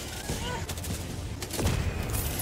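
Rapid gunfire from a gun in Helldivers 2, a loud burst of shots with dense cracks and booms layered over game noise.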